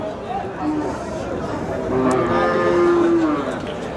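A white-printed Friesian cow at a cattle market lowing in a long, drawn-out moo, close and loud, over busy crowd chatter.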